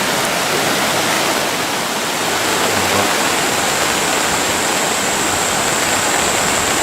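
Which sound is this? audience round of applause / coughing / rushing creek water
rushing creek water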